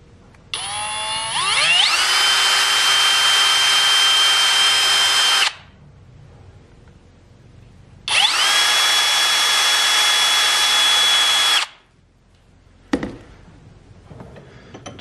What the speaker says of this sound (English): Next step, drill some holes, countersink, get ready to install the bits and bobs.